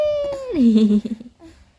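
A cat gives one clear, close meow that slides downward in pitch and trails off into a short murmur, with faint background noise around it.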